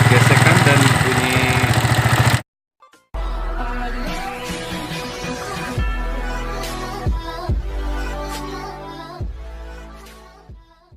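Yamaha Vixion motorcycle engine with abnormal cylinder head noise, idling loudly nearby after a brief cutout, with repeated knocking thumps and scraping rattles over the steady engine note.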